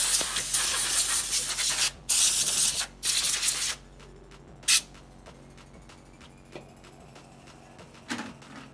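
Compressed air sprays dust out of an opened PS4 Slim console in short hissing bursts, several loud blasts in the first few seconds and a couple of brief ones later, with quiet clicks and handling between.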